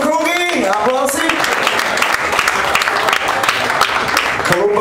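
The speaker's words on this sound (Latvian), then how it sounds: "vokālā pedagoģa Laura Railā, dāmas un kungi, aplausi!" An audience bursts into loud, continuous applause at a televised talent contest, dense clapping filling the room with a voice briefly audible over it at the start.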